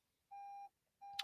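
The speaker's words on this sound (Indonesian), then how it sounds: "sebentar ya, alarm saya berhenti ya." Two electronic alarm beeps, each a steady tone lasting about a third of a second, separated by a short pause, during a spoken teaching session; a brief click lands on the second beep.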